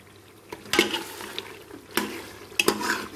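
Spoon stirring chopped green chilies and fresh coriander into frying mutton for tinday gosht, several scraping strokes with a sizzle underneath and clinks against the pot, close and moderately loud.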